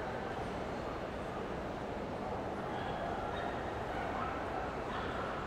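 Dogs at the Crufts 2014 bitches obedience championship, barking, yipping and whimpering within a dense, steady wash of indoor arena noise that stays loud throughout.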